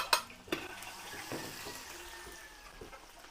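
Ginger sautéed in a pan for a teriyaki sauce, a soft continuous sizzle with a few sharp clinks of a utensil against the pan, close and fairly quiet.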